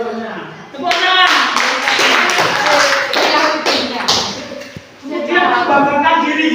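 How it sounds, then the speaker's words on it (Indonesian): Hands clapping together in a classroom as a group applauds, a dense run of claps lasting several seconds, briefly dipping and then resuming, loud and close. "Tepuk tangan."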